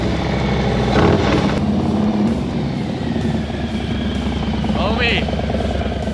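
A 2022 Harley-Davidson Low Rider ST with an upgraded air filter and velocity stack idles steadily while warming up, a continuous low engine rumble running throughout, with a voice speaking briefly near the end.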